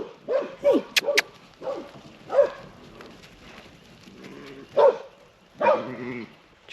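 A puppy gives several short, sharp yips and barks in quick bursts, close by, with brief pauses between them and some quiet talk around the barks.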